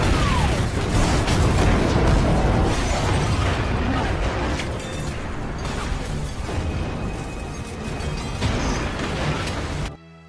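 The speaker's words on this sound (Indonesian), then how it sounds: "menembak gas sebelum dia pergi dan menghasilkan ledakan besar" A large gas explosion in an action film erupts in a loud, sustained roaring blast with crackling debris and rumble that fills the whole stretch before cutting off abruptly at the end.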